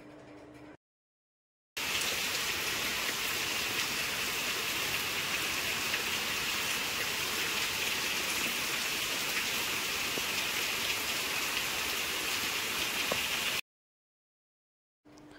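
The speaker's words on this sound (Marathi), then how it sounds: "बाहेर मस्त पाऊस सुरू आहे." Heavy rain pours down steadily in a dense, even hiss that lasts for several seconds, with brief quiet gaps at the start and end.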